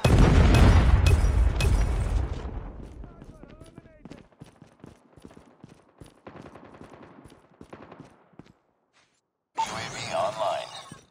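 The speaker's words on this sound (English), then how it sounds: "Friendly Predator missile inbound." A Predator missile explodes in the video game Call of Duty: Mobile, a loud, heavy blast that opens the clip and decays into scattered bursts of gunfire and clicks, followed by a short gap and then a renewed burst of noise.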